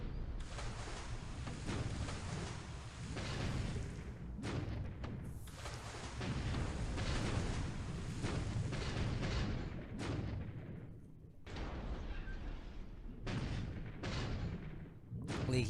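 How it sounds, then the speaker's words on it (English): Depth charges explode against a midget submarine in the War in the Pacific video game: a steady roll of deep, booming blasts and rumbling, continuous and fairly quiet, with a few short pauses between bursts. "It's pretty rare that we see a midget sub survive a depth charge attack."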